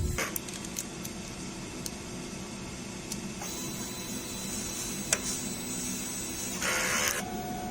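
A DTF printer runs a strong print-head clean, producing a steady mechanical hum with pump and motor whirring, scattered clicks and a brief louder burst of activity near the end, with no voices.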